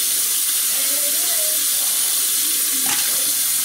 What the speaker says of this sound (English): Let's pour the coffee into my Dunkin' cup